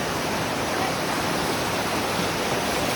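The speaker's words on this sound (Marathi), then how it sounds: "पाण्याचा भाव खूप जास्त जोरात वेगाने येतो" Rushing water at Devkund waterfall on a trek, a dense, loud, unbroken roar filling the whole stretch.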